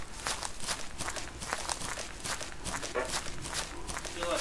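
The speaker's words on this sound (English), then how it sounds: "Oh, I hear footsteps." Footsteps in the survival video game Rust, a steady run of soft, rapid steps under gameplay noise, with a voice speaking over parts of it.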